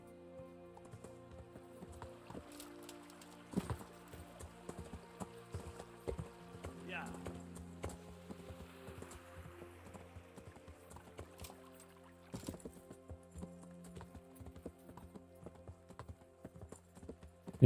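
Horse hooves clip-clop steadily while riding in the game Kingdom Come: Deliverance. The hoofbeats are soft and rhythmic, with louder thumps now and then, under casual conversation.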